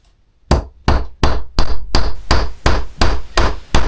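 A hammer knocks tapered parts into a button die, striking eight times in a steady rhythm. The blows are close, loud and sharp, and each one rings briefly before the next lands. No one speaks.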